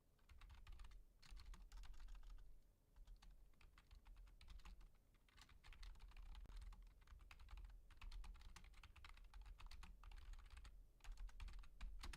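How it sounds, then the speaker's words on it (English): Steady keyboard typing with rapid clicking keystrokes, coming in bursts with brief pauses, close and clear with no talking. "you're hearing typing"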